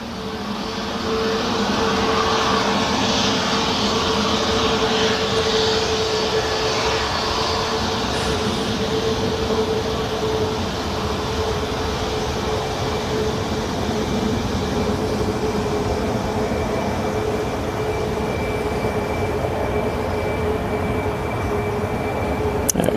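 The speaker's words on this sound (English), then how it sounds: "There's also a KLM 737 from Amsterdam," A KLM Boeing 737 from Amsterdam arriving at Manchester Airport, heard as a loud, steady engine roar with a sustained whine that holds throughout, no voices present.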